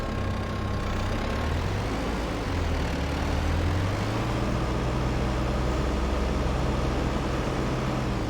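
Tractor engine in Farming Simulator 22 rumbles steadily at a low pitch, its tone shifting slightly as it turns around, loud and continuous with no talk.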